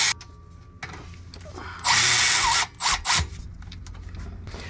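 A power tool snugs up the rear brake caliper bolts on a 2015 Honda Crosstour, sounding as a loud burst of close whirring with a couple of shorter pulses after, against quiet shop background.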